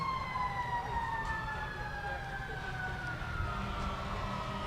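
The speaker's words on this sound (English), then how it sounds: "You'd think Logansport was burning down based on all these sirens." Emergency vehicle sirens wail continuously at the 2017 Light Up Logansport holiday parade. The rising and falling tones carry over steady outdoor crowd and street noise from a moderate distance.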